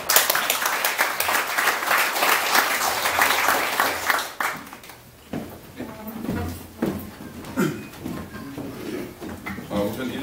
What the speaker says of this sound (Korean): 우리 이 시대의 희망 신원식 장군께 다시 한번 박수로 초청해 주십시오.